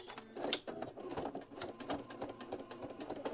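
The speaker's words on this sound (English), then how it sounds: "we're just going to sew 1/8 of an inch, not 1/4 of an inch, but 1/8 of an inch all the way down this one side" A sewing machine stitches a narrow 1/8 inch seam down the edge of fabric strips, a quiet, fast, even whirring with rapid needle ticks.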